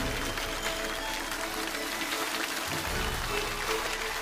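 A studio audience on a Chinese television lecture show applauds to welcome the guest speaker, the president of South China University of Technology. The clapping is a steady, dense wash of sound throughout, with no words spoken.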